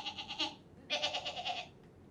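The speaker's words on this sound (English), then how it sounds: "And there came the goat." A goat bleats in two quick wavering bursts, the second longer, loud and close with nothing else around it.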